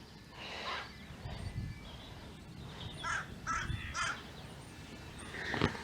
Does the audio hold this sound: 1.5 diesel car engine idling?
no